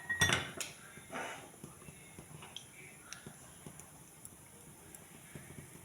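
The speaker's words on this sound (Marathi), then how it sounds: "कढईत पाणी घेतले आणि त्याच्यावर ते भांडं ठेवले" A metal pot is set down onto a wok filled with water, giving a sharp clank at the start followed by a few lighter metallic knocks in a quiet kitchen.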